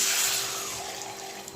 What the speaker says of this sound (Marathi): आपण त्याच्यामध्ये पाणी घालूया